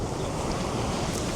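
Ocean waves wash ashore on a garbage-strewn beach near Nouakchott, Mauritania, a steady loud roar of surf mixed with wind buffeting the microphone, with no talk.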